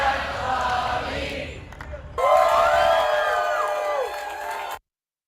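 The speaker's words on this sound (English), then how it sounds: "Let me get the claps in there, say." A live crowd at a World Environment Day event lets out a burst of loud cheering and whooping with some clapping, starting abruptly partway through after quieter murmuring and cutting off near the end.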